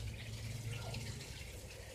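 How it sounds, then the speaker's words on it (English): Water running steadily through one spot outdoors, a continuous faint trickling and rushing flow with no pauses. "The water consistently runs through that one spot"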